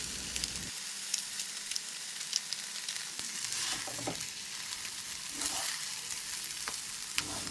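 Chicken chowmein noodles stir-fried with soy sauce, chili sauce, salt, pepper and Maggi masala, giving a steady close sizzle with scattered clicks and scrapes of a utensil, no voices.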